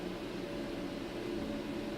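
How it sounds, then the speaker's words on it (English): A constant computer fan hum with a whooshing airy hiss, steady and low in the background, with no other sounds. "sorry about the fan in the background."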